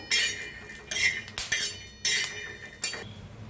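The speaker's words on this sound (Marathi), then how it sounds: "त्यातच टाकूया लसूण बी, सगळ्याला मिक्स करून भाजूया छान असं" Metal spoon scraping and clinking against a pan while chillies and garlic are stirred and roasted, in several short bursts of metallic rattling separated by brief pauses, close and fairly loud.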